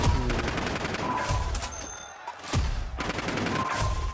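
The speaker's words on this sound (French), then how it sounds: "Il me tire dans les jambes." Gunfire in the video game Warzone: scattered shots and short bursts crackle through a busy game mix, with a brief lull midway before more shots follow.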